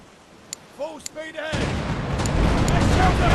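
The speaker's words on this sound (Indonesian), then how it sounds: "Gunfire." In The Pirate: Caribbean Hunt video game, a ship's cannon fires a heavy booming volley that swells into a sustained rumble, following a few brief clicks and in-game voice cries.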